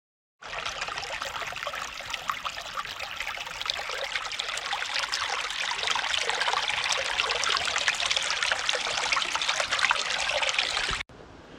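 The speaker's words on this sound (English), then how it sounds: "We're just testing the flow for the first time. Waterfalls are looking really good." Water trickles down a small, newly built garden stream and waterfall being tested for the first time. The close, steady splashing flow starts abruptly and runs unbroken for about ten seconds before cutting off, with no voices.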